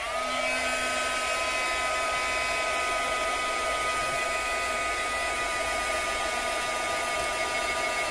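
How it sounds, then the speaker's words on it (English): A heat gun drying glue on a lace doily gives off a steady, loud broadband blowing hiss with a faint whine. It runs evenly and close the whole time, alone with no talking. "there'll be a little bit of noise with my heat gun"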